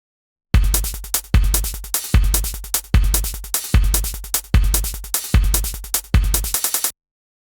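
Early draft of a hardstyle hi-hat sequence: about eight loud, evenly spaced synthetic hits, each with a bright attack and a decaying tail, repeating steadily for roughly seven seconds with no voice.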